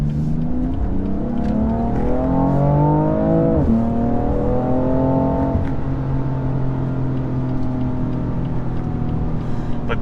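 A turbocharged BMW M3 engine accelerates hard, its pitch climbing through the gears with a sharp drop at a shift, then climbing again before settling into a steady, loud drone close by.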